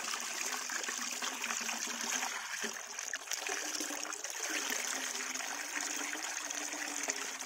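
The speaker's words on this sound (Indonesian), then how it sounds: "Dikasih Anfus 1 bungkus, lalu diaduk rata ya" Anfus fertilizer being stirred into tower-tank water for feeding backyard plants, a steady soft sloshing and trickling swirl that runs continuously at moderate level with no voices.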